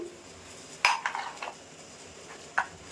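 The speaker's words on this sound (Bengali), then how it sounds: "খুব সুন্দর করে মিশিয়ে নেব।" Raw mango pieces stirred in oil in a pan for mango oil pickle, with a handful of light utensil clinks and scrapes over a quiet background.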